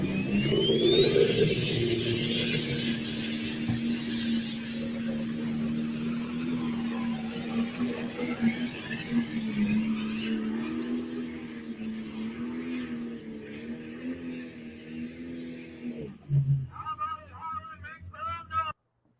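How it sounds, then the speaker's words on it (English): A John Deere pro stock pulling tractor engine roars loudly and continuously, a high whine rising over the steady droning rumble before it cuts off abruptly near the end. "let's listen to this beautiful pro stock, even though it's a John Deere."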